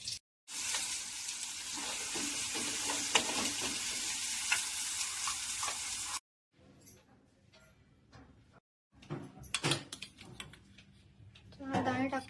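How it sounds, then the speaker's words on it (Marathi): Spices tempered in hot oil for phodni while cooking a home-style Marathi paneer dish, with a loud, steady sizzle for several seconds, then quieter clinks and pan noises after a brief pause. "मी ह्याच्यातच फोडणी देणार आहे"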